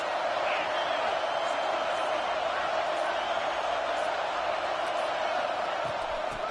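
Constant wall of crowd noise fills a stadium in the College Football 26 video game, a loud, even roar of cheering that holds steady without breaks.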